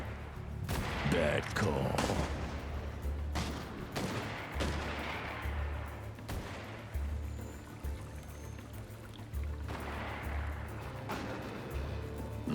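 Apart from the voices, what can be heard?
gunfire in shootout from video game Hard West 2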